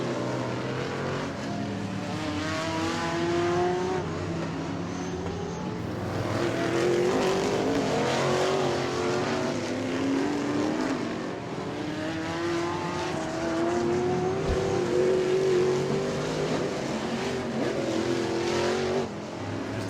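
Pro Figure 8 race cars run hot laps at the Auburndale weekly races, their engines roaring and rising in pitch as they accelerate past, with overlapping waves of loud, continuous motor noise.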